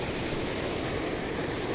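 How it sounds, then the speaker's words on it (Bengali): A rough, churning sea at Teknaf roars as a broad, steady wash of surf and wind noise, continuous and fairly loud with no distinct breaks between waves. "আর এদিকের সমুদ্র এত উত্তাল"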